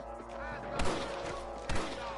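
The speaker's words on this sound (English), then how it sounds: "I can hear more gunshots." Gunfire in the Western video game Red Dead, with two sharp, booming shots about a second apart over a dense, busy game soundscape.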